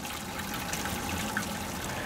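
Foundation water pours into a mash tun while brewing beer, a steady, even rushing and splashing wash of water with no pauses.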